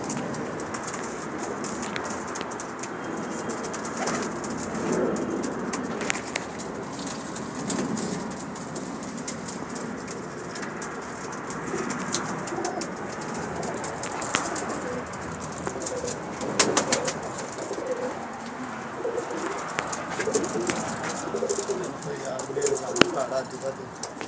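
Pigeons coo in soft, repeated throaty calls among scattered chirps and occasional wing flutters, with people talking nearby in the background.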